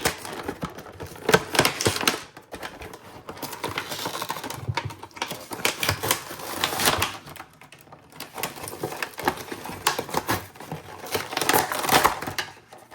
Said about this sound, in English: Just cut that back off and rip right into this thing.